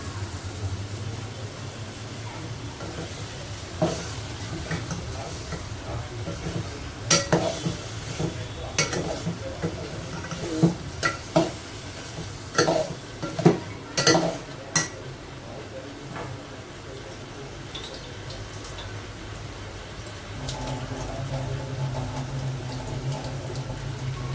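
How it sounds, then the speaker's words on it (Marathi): Masala for a Malvani bangda (mackerel) fish dish sautéed and stirred in a pan: a continuous sizzle runs throughout while a cluster of sharp spatula scrapes and knocks falls in the middle, then eases into a quieter hiss. "हे असं व्यवस्थित परतून घ्यायचं आहे आपल्याला मसाला वगैरे सगळं"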